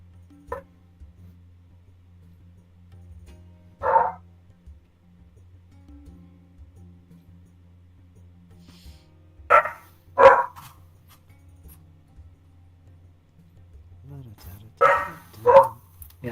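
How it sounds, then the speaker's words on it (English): Dogs barking inside a house, heard as a few short separate bursts spaced across the stretch, fairly distant and muffled, over a low steady background hum. "my dogs are barking in the house. I hear 'em."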